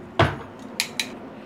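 Metal tongs knock against a pot while sausages are grabbed: one sharp clank followed by two lighter clinks, close and without talk.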